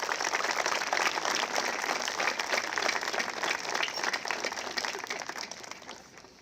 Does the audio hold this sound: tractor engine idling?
no